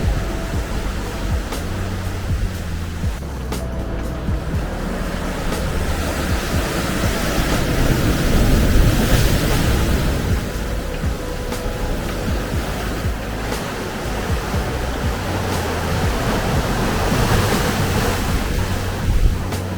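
Sea waves wash against a rocky coastal shore near Monaco, a steady loud surf roar with wind buffeting the microphone throughout.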